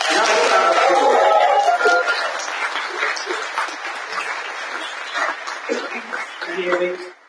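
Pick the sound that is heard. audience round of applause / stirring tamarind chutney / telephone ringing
audience round of applause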